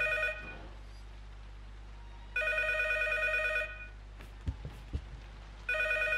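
A telephone bell rings in the horror game P.T. (Silent Hills playable teaser), two long electronic ring bursts with a pause between and a third starting at the end, over a low, steady ambient hum and a few faint clicks.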